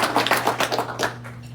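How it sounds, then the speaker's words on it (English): A scattering of claps at a city council meeting as a bank intern is introduced, loose taps of several hands over a steady low hum, brief and moderately near. "You can clap now."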